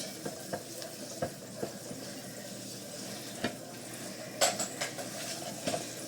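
Coated food frying in a pan gives a steady, quiet sizzle throughout, broken by a few soft clicks and clatters of handling.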